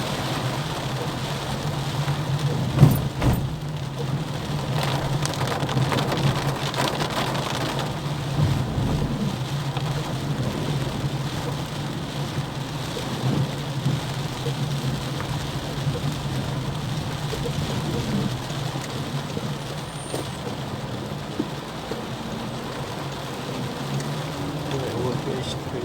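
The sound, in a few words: heavy rain in João Pessoa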